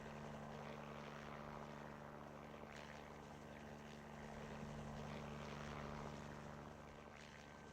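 An aircraft or helicopter flies in Antarctica, heard as a steady low droning engine hum with a constant broad rumble, faint and distant, with no voices.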